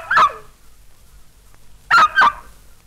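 Three sharp, yelping barks: one alone, then a quick pair a couple of seconds later, clear and close with quiet between them.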